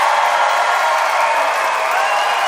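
A comedy debate show audience votes for a winner with broad, continuous applause and cheering, a steady wash of crowd noise with scattered whoops.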